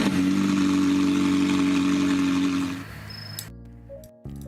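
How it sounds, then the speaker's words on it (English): A McLaren 720S engine starts up in the Roblox game Driving Empire: a steady, mid-pitched engine drone fades out, then gives way to short synthetic tones and clicks. "Listen to how this car sounds when I start it up."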